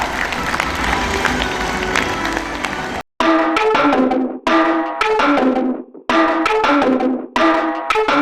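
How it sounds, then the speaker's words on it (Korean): Audience applause at a Gyeongsangbuk-do provincial ceremony after dignitaries sign a low-birth-rate policy pledge: about three seconds of dense crowd clapping, then loud, punchy music stabs with brief silent gaps between them. "큰 박수로 축하해 주십시오"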